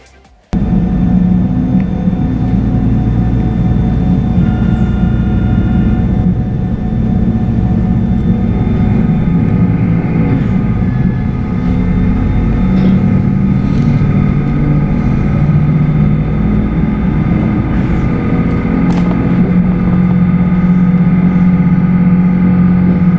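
Steady interior rumble of an AGILIS Regio-Shuttle regional train in motion, a loud continuous low drone with rolling wheel and engine noise, no talking.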